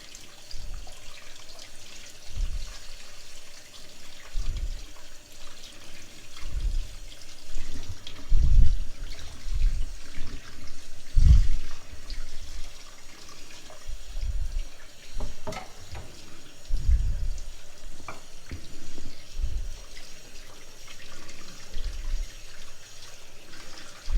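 Peeled eggplants rinsed under a running kitchen tap, a steady soft stream of water with intermittent splashes and low thumps as the vegetables are handled in the sink.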